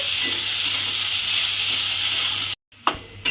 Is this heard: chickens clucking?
no